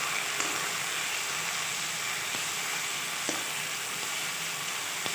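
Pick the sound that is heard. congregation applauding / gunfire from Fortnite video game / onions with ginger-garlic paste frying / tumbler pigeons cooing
onions with ginger-garlic paste frying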